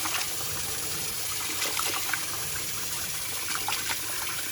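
Wheat grain being washed under running water, a steady close rush and gush of flowing water with faint splashing throughout, loud and unbroken, no voices.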